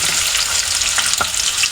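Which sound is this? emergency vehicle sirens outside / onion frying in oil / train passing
onion frying in oil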